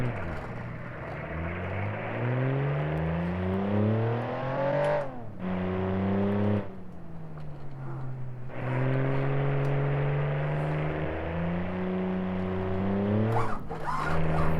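Car engine on a BeamNG.drive test lap, revving up and dropping back through gear shifts with sweeping harmonic pitch, loud and continuous with brief throttle lifts and no talk.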